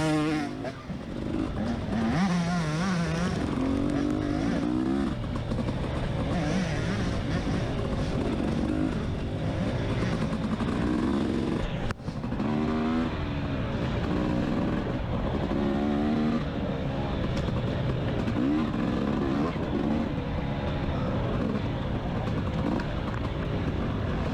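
Several race cars' engines roar and rev in close traffic on a circuit's Chestnut Corner during a Mid East racing event, a dense, continuous engine drone with rising and falling pitch throughout.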